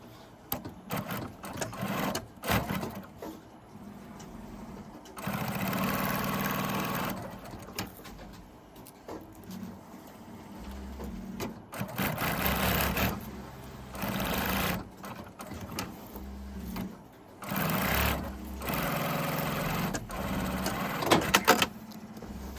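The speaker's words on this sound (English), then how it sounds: "I'll sew the 3 sides around and then insert it on there" A sewing machine runs in repeated bursts while stitching hook-and-loop tape onto a structural loop-lined cummerbund, with short pauses and fabric handling between the stitching runs.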